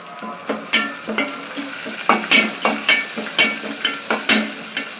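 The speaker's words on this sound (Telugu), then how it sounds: "ఇంకా తాలింపు వేసేస్తున్నాను" Curry leaves, red chilli, onion and garlic crackle and sizzle in hot oil for a lentil-dal tempering, with bright popping bursts and stirring scrapes recurring close by, no voice.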